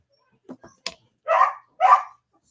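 Dogs in a house bark at the door: a few short, quiet yips and huffs, then two louder, full barks spaced about half a second apart, close by and with no talking.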